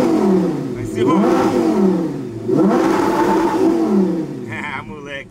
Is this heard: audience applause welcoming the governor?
no